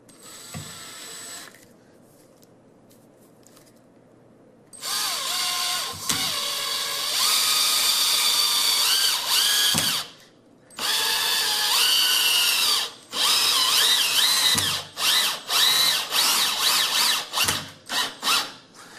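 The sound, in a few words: power drill with Phillips driver bit driving screws into table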